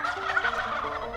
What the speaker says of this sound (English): On a still night, gobbles can be heard from a considerable distance.